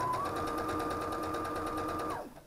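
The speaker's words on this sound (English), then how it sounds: "Sewing these strips on that are cross grain or along the grain, however you choose to cut them, will help to stabilize each side." A sewing machine runs in one steady, continuous burst, stitching fabric strips onto the edges of a quilted star, then stops near the end.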